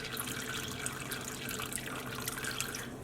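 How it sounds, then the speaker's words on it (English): Excess water drains off a freshly dip-dyed double-strand crochet yarn blank coloured with violet food colouring, a steady close trickle and splash running without pause, with no voices. "I like to just drain off some of the excess water"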